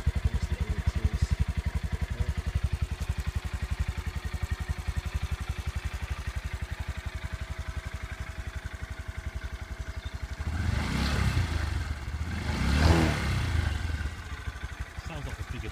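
A Honda MSX 125 Grom motorcycle engine idles with a steady throb, then revs up twice in quick bursts before settling back to idle, close by.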